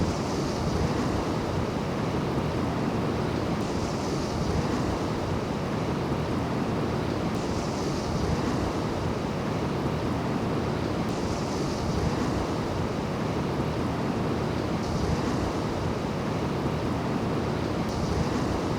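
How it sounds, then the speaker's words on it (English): Ocean waves roar steadily onto the Limestone Coast shore in South Australia, a loud, unbroken surf wash mixed with gusting wind buffeting the microphone. "the waves around the front, I can hear them absolutely belting in"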